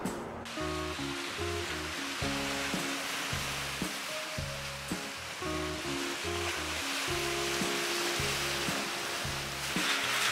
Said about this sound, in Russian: Сочи, Черное море, дождь.